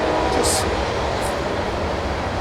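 A train rolls steadily through a small Louisiana town, a constant loud roar and rumble close by for the whole stretch, with faint brief squeaks riding on top.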